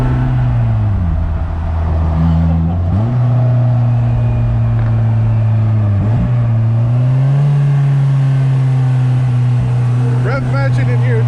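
A 2020–2021 Indian Chieftain motorcycle engine rises and falls steadily as it revs and rev-matches through gear changes, a loud continuous drone with voices talking over it throughout.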